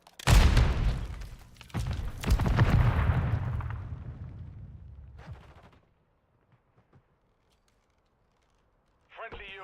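A frag grenade blast in Call of Duty Warzone erupts in a heavy booming burst, followed by a second rumbling explosion with gunfire that decays into near silence before a brief voice returns at the end.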